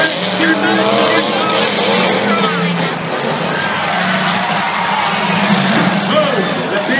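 Race trucks at a UTC dirt track event, engines roaring and tires skidding as they bump into each other, a loud continuous mix under an announcer's commentary.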